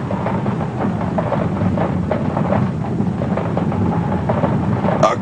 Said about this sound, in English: A cursed hailstorm.